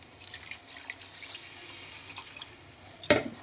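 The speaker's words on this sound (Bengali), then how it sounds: "এবার জল দিয়ে দিলাম।" Water is poured into a pan of vegetable curry, a soft running splash and trickle that builds to a brief louder gush near the end, close by in a home kitchen.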